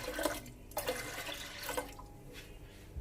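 Water pours into a pot of two kinds of lentils in a home kitchen, a soft, uneven splashing with a few louder gushes, alone without speech.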